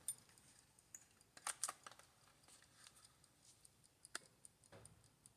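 Soft, steady ticking of a small wind-up travel alarm clock, faint and close, with a few sharper clicks and light handling noises, no talking.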